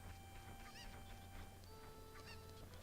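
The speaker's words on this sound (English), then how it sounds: "Oh, the fucking chickens got out again?" Chickens in The Legend of Zelda: Ocarina of Time give repeated squawking, clucking calls over a steady low game background hum, with a few louder cries standing out in a continuous mix.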